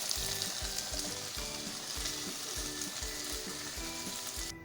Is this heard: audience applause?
no